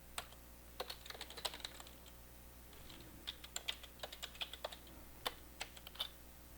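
Password being typed on a computer keyboard: a quiet, irregular run of crisp key clicks in short bursts, close up against a faint steady hum.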